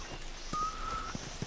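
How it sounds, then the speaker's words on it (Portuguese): A thin, steady whistled note holds for about half a second, quiet against faint background noise. "Eu tô tentando aprender a assobiar."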